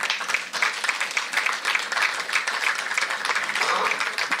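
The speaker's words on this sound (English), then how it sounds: "A clap for Mr. Kidi Mwaga." Audience applause for a panel speaker at a political forum held at party headquarters gardens in Kenya, a brisk patter of many hands clapping at steady loudness throughout, with some voices mixed in.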